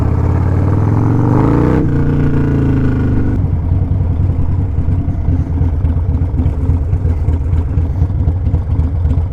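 A car engine nearby on a street outside a shop, a loud mid-pitched drone that rises in pitch, then drops and settles into a steady rumble as it moves on, with no talk.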